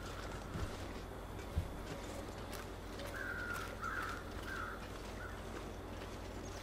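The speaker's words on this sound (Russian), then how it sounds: "Кстати, вон там теперь ворона летает." A crow caws in the survival game The Long Dark, a few rasping calls at moderate distance over a faint wind-like ambience, with a couple of soft thuds early on.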